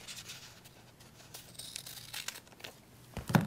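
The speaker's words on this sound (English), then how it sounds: "And then cut the tape there" Scissors cutting a strip of kinesiology tape, with faint crinkling and rustling that ends in a sharp, louder snip of the tape backing close by.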